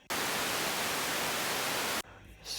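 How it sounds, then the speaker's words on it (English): Synthesized white noise plays as a flat, loud hiss for about two seconds and then cuts off abruptly, leaving quieter room sound. "Sure, white noise."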